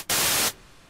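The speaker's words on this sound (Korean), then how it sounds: "화이트 노이즈 여기 있다." Dense, full-band white noise hiss from a synthesizer preset, sounding steadily for about half a second at a loud, even level before cutting off abruptly to near silence.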